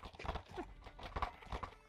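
Horse hooves clip-clop in a steady, moderately loud rhythm during a medieval-style scene, with people talking over the hoofbeats and an occasional faint whinny.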